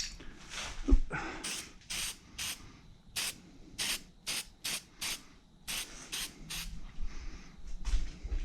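Aerosol spray paint being applied to engine intake runners in short repeated bursts of hiss, about a dozen spurts with brief pauses between them, close and clear.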